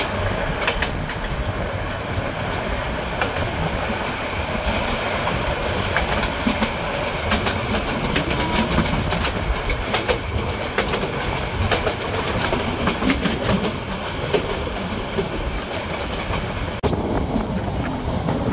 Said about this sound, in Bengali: এই স্টেশনটির ট্র্যাক সাউন্ডটা কিন্তু অসম্ভব রকমের ভালো লাগলো।